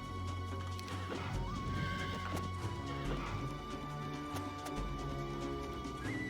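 Unicorn creatures from the video game Heroes Chronicles neigh and whinny in the game's sound effects, with clip-clopping hooves and some crashing battle noises, all over a steady music or ambience bed with no talking.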